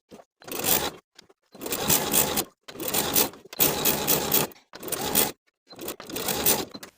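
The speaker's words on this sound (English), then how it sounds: "I'm going to top stitch from the front of the garment right above the seam that we just sewed with about a 1/4 inch seam allowance all the way across" A sewing machine topstitching across a cardigan hemband seam runs in six bursts of steady whirring stitches, each lasting about half a second to a second with short pauses between, close and clear with no talking.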